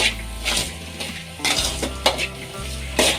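Banana stem stir-fry with coriander leaves being stirred and mixed in a pan, repeated spatula scrapes and clinks against metal with a soft sizzle underneath, close and fairly loud, no talking.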